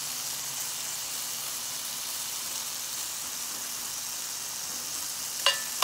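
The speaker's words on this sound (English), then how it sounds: "We're going to let them cook down some more." Meatloaf ingredients sizzle and cook down in a pan, a soft, steady frying hiss heard close by, ending with a brief clink.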